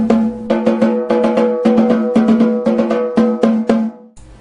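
Snare drum tuned to finger tension, fitted with a Remo Ambassador clear resonant head, struck in a quick, steady run of about a dozen sharp ringing hits with a clear pitched tone, close and loud, alone.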